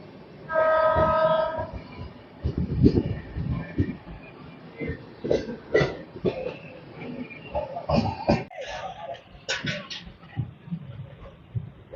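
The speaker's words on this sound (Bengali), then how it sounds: "মালদা থেকে আসছে হাওড়া যাচ্ছে" The Biswabharati Express from Malda to Howrah rumbles through Bandel Junction with a long horn blast near the start, rattling and clanking as it passes, with people talking nearby.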